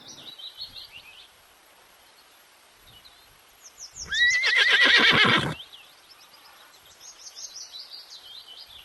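A horse gives a single loud, drawn-out whinny lasting over a second, set against light bird chirps before and after.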